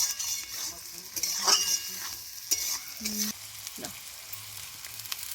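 Vegetables for fried rice sizzle steadily in a pan while a utensil scrapes and clinks against the metal, with a few faint voices in the background.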